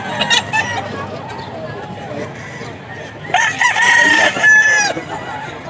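A Golden Boy gamecock crows loudly twice in a row, with clucking from other fowl and a babble of voices and chatter in the background of a busy cockfighting-bird sale.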